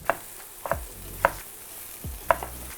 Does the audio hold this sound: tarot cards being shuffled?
no